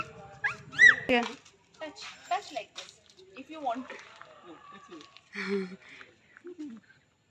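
A dog lets out high, rising whines near the start, then a scattered series of short whimpers and soft yips with quiet pauses between them.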